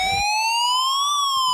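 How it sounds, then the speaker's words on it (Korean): A wailing police-style siren sweeps up and down over a hip hop track mixed with rock sound, loud and continuous after a brief beat at the start. "그 결과 록 사운드와 힙합 리듬의 조화 속의 사이렌 소리, 흑인 운동가 말콤 X의 멘트, 요란한 스크래치로 뒤덮인 독특한 음악이 완성됐고"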